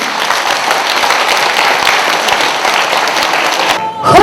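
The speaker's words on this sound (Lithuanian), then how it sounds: "Plojimai jiems!" An audience applauds a choir at an anniversary evening for former political prisoners and deportees in Gargždai, loud continuous clapping that cuts off near the end as a voice begins.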